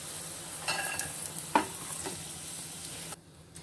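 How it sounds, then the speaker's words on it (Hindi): Roasted peanuts stirred and scooped out of a kadhai onto a plate, a soft dry sizzle under a few scraping clinks of the spoon against the metal pan, then the sound cuts out near the end. "मूंगफली भून चुकी है, अब मैं इसको एक प्लेट में निकाल रही हूँ।"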